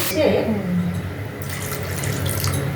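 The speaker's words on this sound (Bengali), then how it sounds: "জল দিচ্ছে গ্রেভি ফুটে যাচ্ছে" Water poured into a bubbling fish curry gravy with aubergine and lentil dumplings, a close gushing splash that settles into a steady simmering hiss, with a voice briefly under it.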